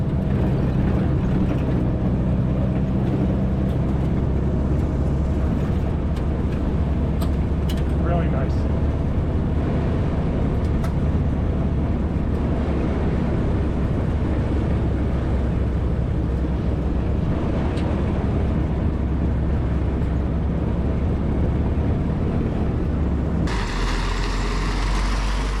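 Willys Jeep engine droning steadily while being driven, a low continuous rumble with road noise throughout and a brief shift near the end.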